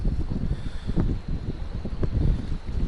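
Gusty wind on an estuary shore buffets the microphone in low rumbling bursts that rise and fall, with no voices.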